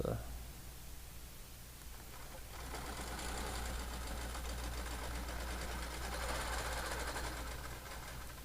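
Longarm quilting machine stitching along a ruler, starting quietly and then running as a steady, rapid mechanical whir with a fast needle rhythm for several seconds, with faint speech at the start.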